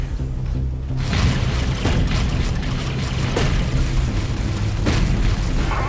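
A turret being destroyed in the video game Warhammer 40,000: Dawn of War III, with a sudden loud boom followed by sustained explosive rumble and crackling blasts that stay dense and loud throughout.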